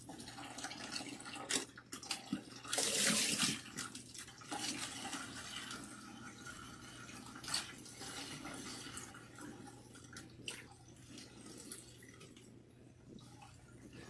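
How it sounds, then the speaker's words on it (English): Water splashes and drips into a bucket as washed natural hair is rinsed, a steady pouring wash with a louder gush early on and scattered drips throughout. "Wash your hair until you see clean water."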